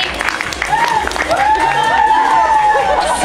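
Audience applause and cheering from a crowd at an outdoor street dance festival stage in Fukuoka, steady and dense throughout, with whistle-like tonal sounds and voices mixed into the clapping.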